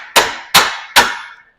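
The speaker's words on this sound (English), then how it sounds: "So all I do is I just take a hammer it up like that" Three sharp metallic hammer blows strike a press nut on a Mazda Miata's PPF bar, evenly spaced about a beat apart, each ringing briefly before decaying, close and loud with no talking.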